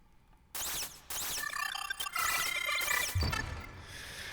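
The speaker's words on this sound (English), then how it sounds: "giving the idea of this friendly robot rather than something menacing" Chirpy, warbling electronic bleeps and burbles like a playful robot chattering, bursting in quick phrases with short gaps.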